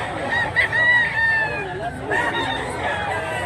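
A Blue Legs bullstag gamecock crows among other fowl at a cockfight gathering in Mantalungon, Cebu, its calls rising over a constant murmur of crowd chatter and nearby talk.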